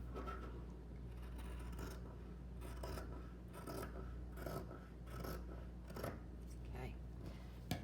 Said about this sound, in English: I am just cutting carefully along that line as best I can.